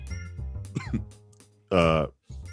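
A person clears their throat and gives a short cough close to the microphone, with quiet voices and background sounds around it.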